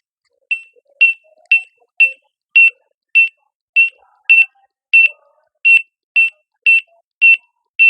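An Android barcode scanner beeps repeatedly while scanning inventory, with about fourteen sharp, evenly spaced electronic tones, loud and close, and faint background noise between them.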